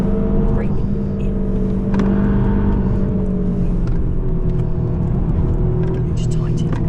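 A car engine pulling hard at the Nürburgring, a loud, continuous in-car drone whose pitch rises and falls slightly with the throttle, heard close and without pause.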